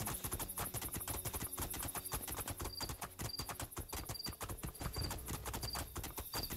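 Steady clip-clop of horse hooves in the video game Two Worlds 2, a continuous rhythmic trotting gait loud and close throughout, with a faint high tone recurring in the background.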